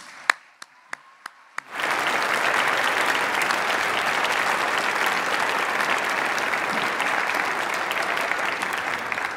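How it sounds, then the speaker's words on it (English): At a piano recital, a few isolated claps ring out first, then the audience breaks into full, sustained applause that stays loud and steady to the end. "Would you please give these folks a round of applause?"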